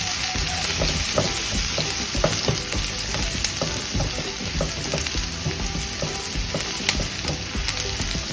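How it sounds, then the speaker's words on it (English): Minced garlic and diced onion sauté in a pan under a dense, steady sizzle, with frequent light taps and scrapes of a utensil stirring close by. "Let that cook for 2 minutes or so until the onion and garlic soften."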